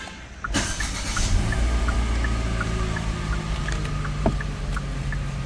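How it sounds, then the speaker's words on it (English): A Hyundai Creta 1.5 MPI S variant starts by push button: a quick cranking burst rises into a steady, moderately loud idle hum, with a few small clicks over it. "So we are switching on the car, and one of the good thing, you are getting a push start button engine even in S variant."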